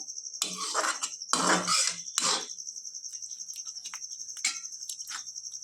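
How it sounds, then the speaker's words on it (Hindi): Roasted spices being stirred in a thin kadhai over a raised flame, giving a few bursts of scraping and rustling near the start, then sparse light clinks over a steady high hiss. "हाँ, हमें ये थोड़ी थोड़ी देर में इस तरीके से चलाते रहना है"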